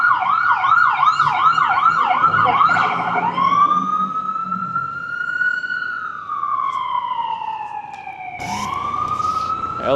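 An emergency vehicle siren on a New York City street yelps quickly at first, then slides into a long, drawn-out wail that dips and climbs again, loud and near the whole time.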